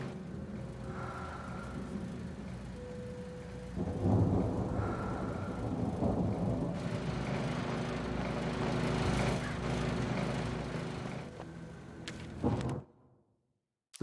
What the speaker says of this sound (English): The storm raged on as the Anderson brothers walked unsteadily away from the clinic